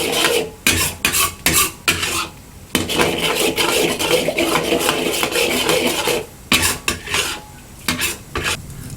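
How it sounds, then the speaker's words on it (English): A spatula stirs egg into rice in a pan while making shrimp fried rice, producing loud, busy scraping and clattering strokes in quick bursts with a longer continuous stretch. "have a quick stir with a spatula to form it into short strands."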